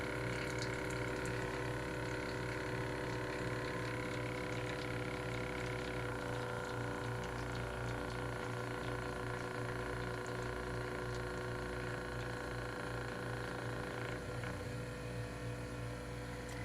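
A Kejector portable espresso machine pumps water and extracts espresso, a steady loud mechanical hum and buzz with a gurgling liquid flow that runs without a break.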